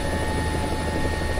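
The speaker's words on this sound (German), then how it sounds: "Noch lässt sich der Hubschrauber gut steuern." Mi-24D attack helicopter in flight in the War Thunder video game, Syria setting, giving a steady loud rotor and turbine drone that holds evenly throughout with no talking.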